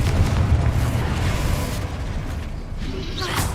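A Confringo explosive spell fires in Hogwarts Legacy, giving a dense, rumbling blast with a sustained low roar and a bright burst near the end, loud and close with no talk.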